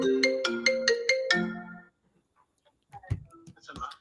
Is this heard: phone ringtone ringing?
yes